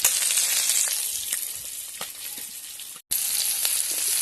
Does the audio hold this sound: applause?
no